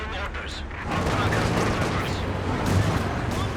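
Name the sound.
mortar fire in video game Company of Heroes 2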